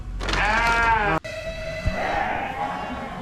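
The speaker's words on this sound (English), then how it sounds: "gotta make sure the sheep don't get out" Sheep bleat loudly and close by on a Dorper sheep farm, one long wavering call followed by more overlapping bleats from the flock.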